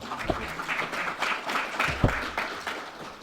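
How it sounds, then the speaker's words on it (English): Scattered clapping from a small audience at a trade forum, individual claps distinct and uneven, fairly quiet and irregular over a few seconds. "Please give a round of applause for Bin Yu."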